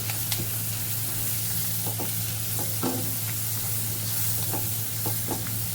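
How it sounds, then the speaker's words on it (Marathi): Onion fries in a pan with a steady sizzle, broken by several sharp scraping stirs of a spoon, close and busy. A low hum sits under it. "यात मी थोडासा कांदा पण फ्राय करणार आहे"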